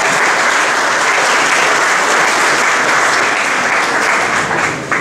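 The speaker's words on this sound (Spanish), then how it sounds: "Démosle un fuerte aplauso" Loud, sustained applause from a conference audience fills the whole stretch, a dense steady wash of many hands clapping with no pauses, fading slightly at the very end.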